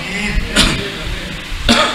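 Someone speaking coughs twice, two short sharp coughs about a second apart, close and loud among his speech.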